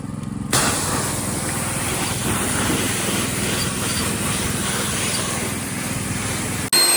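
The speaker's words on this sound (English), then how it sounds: "This is how we blow it off. I just come off the T-mover. That's one heck of a little low air blower" Compressed-air blower cleaning off engine parts of a 2005 Land Rover LR3 during gasket replacement, a loud continuous roaring hiss that starts abruptly and holds steady for several seconds before cutting off, with no talking.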